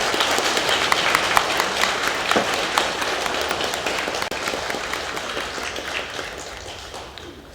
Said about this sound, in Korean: 부활하신 예수님을 마음껏 찬양한 찬양대 가운데 우리 감사의 박수 다시 한 번 더 부탁드리겠습니다.